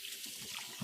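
Chunks of beef trimmed for soup get a quick rinse under running tap water, a soft steady hiss and splash that stays faint and close.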